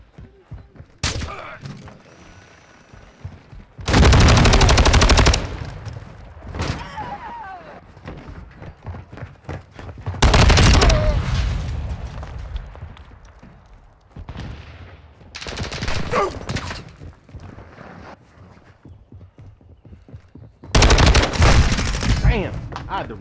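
Bursts of automatic gunfire in the video game Modern Warfare 2 come in loud sustained volleys separated by quieter stretches of scattered shots and clatter.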